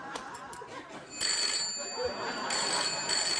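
A telephone rings in a TV studio, its bright repeated bursts sounding fairly close over a noisy background, with faint voices underneath.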